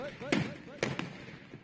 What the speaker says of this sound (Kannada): ಬಸ್ನ ಹಿಂದಿನಿಂದ ಸ್ಫೋಟಕದ ಮೂಲಕ diversion ಮಾಡುತ್ತಿದ್ದಂತೆ window assault Arjuna assault ಮಾಡ್ತಾ ಇದ್ದಾರೆ